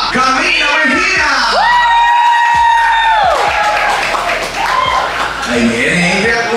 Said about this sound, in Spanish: Recibimos con un fuerte aplauso a Camila Mejía